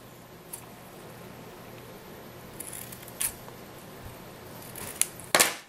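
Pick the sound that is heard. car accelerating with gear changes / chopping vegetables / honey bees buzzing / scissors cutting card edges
scissors cutting card edges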